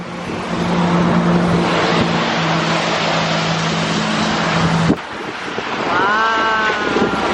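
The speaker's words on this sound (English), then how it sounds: "the cars are passing by and then the bridge, I feel like it's moving" Steady roar of traffic rushing past on a bridge in poor weather, broad and loud throughout, with a brief drop near the middle before the rushing noise swells again; a tonal whine drifts in toward the end.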